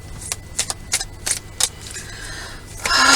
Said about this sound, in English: So let's just give this a really good shuffle for a minute.